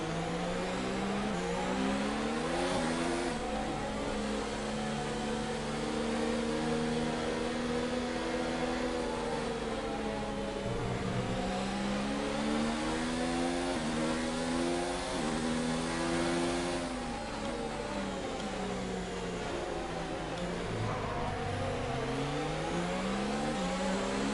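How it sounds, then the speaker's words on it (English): A Formula 1 car in F1 2019 at Montreal, its engine droning steadily and rising in pitch again and again as it climbs through the gears, loud and continuous with no talking. "go through all the gears if you can"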